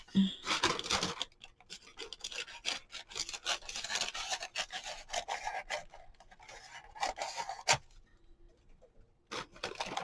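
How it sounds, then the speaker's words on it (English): Faux leather is being trimmed from a journal cover, giving close, quiet scratchy rasping and snipping strokes that come in irregular bursts with brief pauses. "I'm going to cut some of this excess off and get that shortened a little bit."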